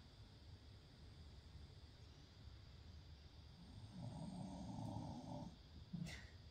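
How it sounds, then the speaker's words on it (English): A person snoring during a quiet yin yoga session, soft steady breathing noise, then a louder, rougher snore swelling for about a second and a half, ending in a short snort, with faint room hiss throughout. "having a good old snore"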